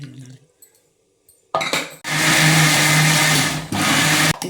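After a few brief clinks and a quiet pause, a kitchen mixer grinder roars into a loud, steady whir blending appam batter, briefly dipping once before running on and cutting off.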